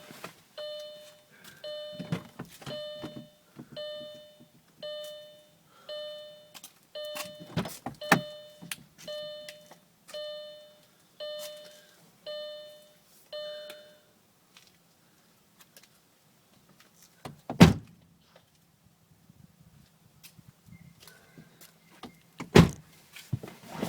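Power windows of a car whir through repeated short, evenly spaced motor runs in a quiet interior, followed by a few louder isolated thumps and clicks near the end.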